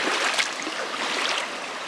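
A river flows steadily with a soft, broadband wash of moving water, constant and fairly close, with no voices over it.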